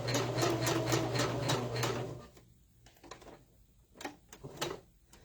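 A sewing machine stitching fabric for a Christmas tree pattern, a fast loud run of rhythmic needle clatter with a motor whine for about two seconds, then slower scattered clicks and short bursts, close up and without talk.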